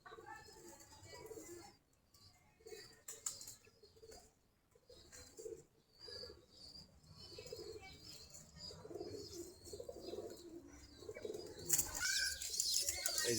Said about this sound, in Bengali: এই যে এখানে আমাদের কবুতরগুলা বাচ্চাদেরকে খাওয়াচ্ছে।